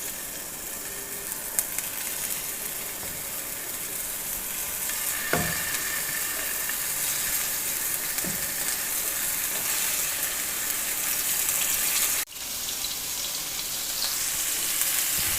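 Gola kebabs fry in cooking oil over a medium flame, giving a loud, continuous, close sizzle with a few faint clinks and stirring noises and no talking.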